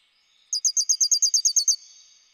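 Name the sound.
people imitating birdsong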